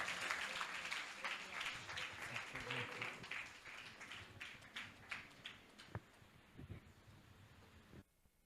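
A congregation at a Telugu Christian praise gathering claps hands in a dense, continuous patter that thins and fades toward the end, with a few scattered louder claps standing out near the close.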